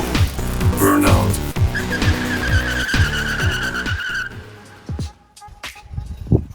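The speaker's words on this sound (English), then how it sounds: "Burnout." A 2015 Ford Mustang does a burnout: a loud engine roar with a sustained high tire squeal that rises in the middle and then fades, leaving a brief quieter tail.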